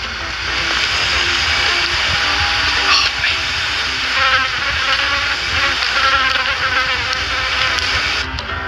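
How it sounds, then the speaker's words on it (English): A few mosquitoes buzz in a loud, continuous, whining drone close to the ear that swells and fades slightly as they move, with no talking over it. "Nah, it's just a few mosquitoes."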